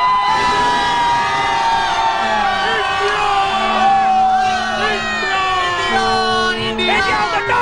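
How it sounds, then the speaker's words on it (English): A large cricket crowd at a World Cup match roars and cheers loudly and continuously as India beat West Indies, with shrill whoops and horn-like tones rising above the din. "Let's have the loudest cheer possible."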